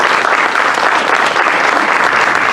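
An audience at an evening art and music event claps in a dense, sustained round of applause, loud and close, with no voices standing out.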